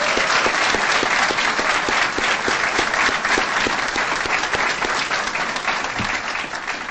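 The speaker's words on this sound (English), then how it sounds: "Let's give Charlotte High's team a round of applause." A school board meeting audience gives a sustained round of applause for the Charlotte High math competition team, dense steady clapping filling the room without a break from start to finish.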